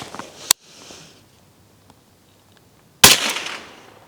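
Two loud, sharp rifle gunshots from Phantom Defense ammunition loaded with a 110 grain TAC TX bullet during velocity testing, about two and a half seconds apart, each followed by a ringing decay outdoors.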